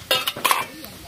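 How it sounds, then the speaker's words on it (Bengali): A spoon scrapes and knocks against a pan while onions and spices for fish curry are stirred, giving a few quick clinking strokes with faint sizzling, close and moderately loud. "এই দেখো একটু ঘেটে নিলাম।"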